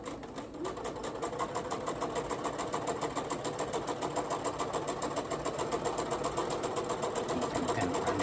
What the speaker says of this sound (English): sew this at 5/8. And back stitch.